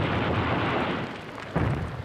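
Katyusha rocket salvo exploding in a massed barrage, a dense, continuous rumbling roar of blasts with a sharp fresh burst near the end, loud and close.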